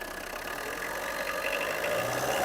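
A car engine at a used car shop runs steadily at close range, a continuous mid-pitched drone that builds slightly in loudness over a couple of seconds, with no clear revving peaks.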